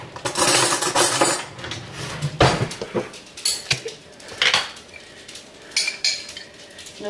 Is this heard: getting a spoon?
yes